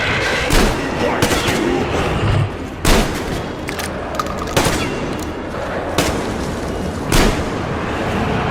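Heavy gunfire fights off mutants in the Metro video game, with loud, booming shots at irregular intervals over a dense, continuous roar of combat and a brief voice.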